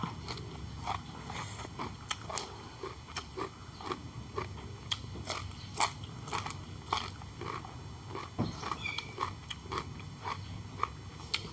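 Crisp lettuce salad bitten and chewed close up, a steady run of sharp crunches and wet mastication with no talking, served alongside Lao-style duck noodle soup.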